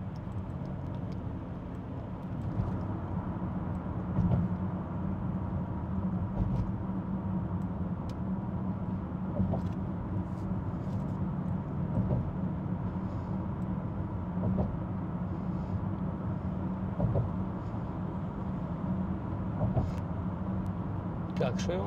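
Car interior noise while driving onto the Manhattan Bridge toward Brooklyn, a steady low road and engine rumble throughout with someone talking over it.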